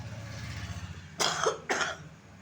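Two sharp coughs from a person with a cough and cold, close and fairly loud, a short pause between them over a faint low hum.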